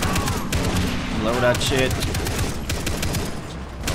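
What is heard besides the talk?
gunfire in Far Cry 3 video game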